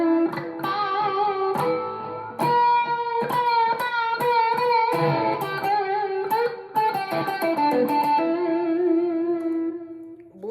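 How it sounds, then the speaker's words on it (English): Electric guitar lead played through a Headrush Core modeler with BBD delay, a distorted singing line of sustained notes and quick phrases with echoing repeats trailing behind, loud and close throughout. "And then lead with the BBD delay sounds like this"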